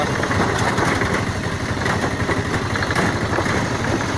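A Mahindra tractor engine idling nearby, a steady low rumbling chug with continuous vibration and no talk.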